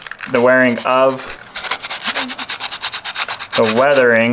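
Sandpaper rubs over a painted, weathered 1911 pistol model in a run of quick, rhythmic scratchy strokes, framed by a voice talking before and after.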